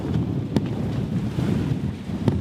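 Gusty wind buffets a sailboat at sea in gusts of about 20 knots, a rough ongoing rumble with sharp microphone thumps as two strong gusts hit.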